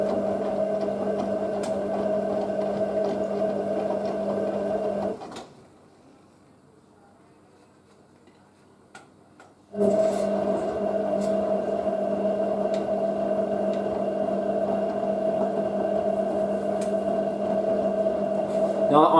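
A Hotpoint 9530 washing machine motor runs with a steady tonal whine and hum, cuts out into near silence for several seconds with a few faint clicks, then starts up again at full level.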